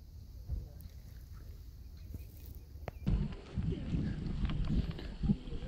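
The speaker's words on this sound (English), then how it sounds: "Wind's picking up." Wind gusting across a lake, a low steady rumble with buffeting against the microphone that grows noticeably stronger halfway through, with faint water and boat noise underneath.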